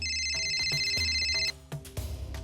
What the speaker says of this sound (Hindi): ये घर पे कोई फोन क्यों नहीं उठा रहा है?